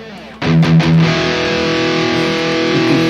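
An electric guitar played through a drive pedal model on a Fractal Audio Axe-Fx II rings out with a distorted chord struck after a brief pause, a few quick re-picks, then a long sustained, slightly buzzy decay.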